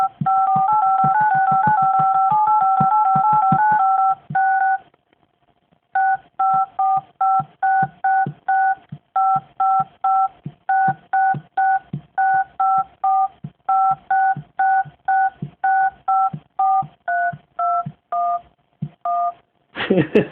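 Keypad tones from a stock Android Jelly Bean 4.2.2 phone dialer, a long run of DTMF beeps, first a rapid continuous stream, then after a short pause a steady series of separate evenly spaced presses, clear and close with no talking.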